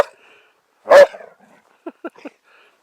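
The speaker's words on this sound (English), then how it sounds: "She still barks like she does." An old dog barks outdoors by a partly frozen lake, giving one loud bark followed by three quicker, softer yips in a quiet setting.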